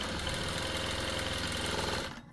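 A sewing machine stitches a blouse shoulder seam with a fast, steady, rhythmic rattle that runs for about two seconds before stopping.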